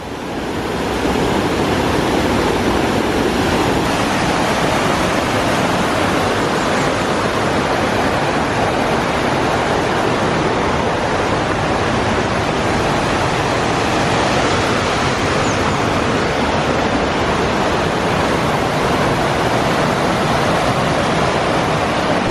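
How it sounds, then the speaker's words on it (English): A loud high-flowing river near a waterfall in Romania roars as a dense, steady wash of rushing water, close and unbroken for the whole stretch, with no voices. "Check out the high flow of the river"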